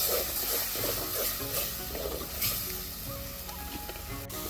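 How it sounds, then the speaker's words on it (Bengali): Spice masala frying and being stirred in a pan for a village-style fig and potato curry, a continuous sizzle with rhythmic scraping strokes of a spoon, close and fairly loud, with no talking. "দিয়ে এবার এটাকে একটু নাড়িয়ে এবার জল দিয়ে দেবো, নাহলে মশলাটা আবার পুড়ে যাবে।"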